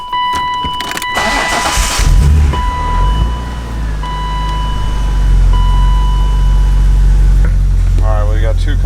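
A BMW M3 is started after fault codes are cleared: a clicking and whirring crank, then the engine catches and settles into a loud, steady idle, with voices talking over it.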